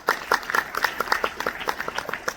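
An audience claps hands in applause at a public talk, with a steady run of sharp, dense claps at close range and no other sound.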